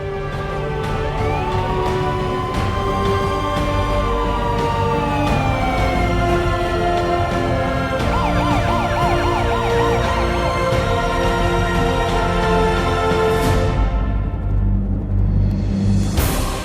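An ambulance siren wails loudly over road traffic in Punjab, sweeping up and down in long tones that switch to a fast warble midway, then fade off near the end.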